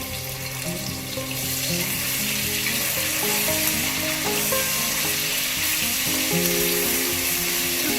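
Ginger-garlic paste frying with mutton pieces in a pan for an Andhra-style green chilli mutton, a steady loud sizzle with occasional stirring scrapes, continuous throughout.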